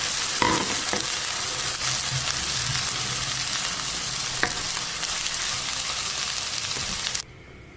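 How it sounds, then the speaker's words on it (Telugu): Cooked rice is stirred into gongura (sorrel leaves) in a hot pan, giving a steady sizzle and frying hiss with scraping stir strokes throughout, ending abruptly near the close. "ఇట్లా నేను 1 కప్పు ఉడికించుకున్న రైస్ని వేస్తున్నాను."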